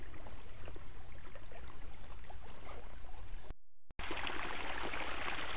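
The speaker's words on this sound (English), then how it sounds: "See how much water is going by" Stream water pouring steadily over a mountain weir after heavy rain, a continuous loud rushing wash close by with a brief dropout near the end.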